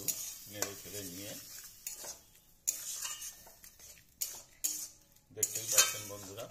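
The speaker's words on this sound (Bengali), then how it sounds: "পরে আমরা সেদ্ধ করা বুট ও আলু মশলার মধ্যে দিয়ে দিলাম, দিয়ে ভালো করে একটু নেড়ে চেড়ে নিয়ে" Boiled chickpeas and potatoes stirred into frying spices, a metal spoon scraping and clinking against the pan in irregular bursts with quiet sizzling between, close up and with no talking.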